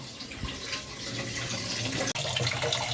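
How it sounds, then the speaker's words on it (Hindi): A water tap runs steadily into a sink while hands are washed, a continuous close splashing hiss with a brief break near the end. "अभी मेरा हाथ धोना"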